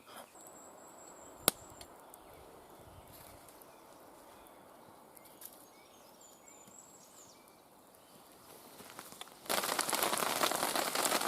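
Hail starts suddenly on a shelter roof at an outdoor fire camp, a loud dense rattling roar after a long stretch of quiet patter and a few faint knocks.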